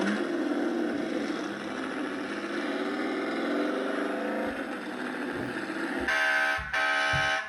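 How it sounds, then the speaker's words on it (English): A 2016 Hess toy truck carrying a race car gives a steady electronic motor drone, followed by two short, buzzy horn beeps near the end. "Okay, a horn."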